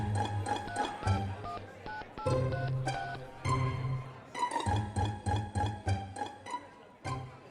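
Landline telephone being dialed: a string of short electronic key tones in irregular bursts, fairly faint, with brief pauses between groups of digits.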